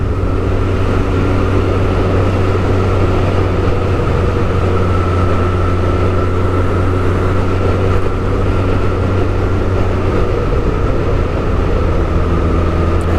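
A motorcycle is ridden along country lanes, its engine producing a continuous loud, steady drone with a low hum and wind rush, holding an even pace throughout without any talk.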